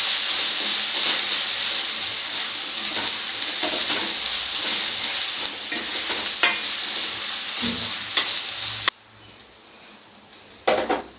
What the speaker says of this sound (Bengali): আদা রসুনটাকে এবারে পেঁয়াজের সাথে আবারও খুব ভালো করে ভেজে নেব